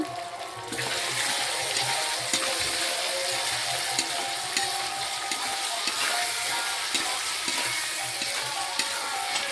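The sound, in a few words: country chicken with spices sautéing in a pan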